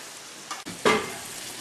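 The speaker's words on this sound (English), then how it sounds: "Just pulled the fries out of the oven, give them a little flip." Oven-baked fries flipped on a hot tray: a soft scrape, then a brief burst of sizzling hiss that slowly fades, close and short.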